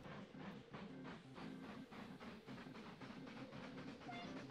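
A train sets off in the Mashinky railway video game, its wheels giving a steady, rhythmic clickety-clack over a low rumble, quiet and continuous throughout.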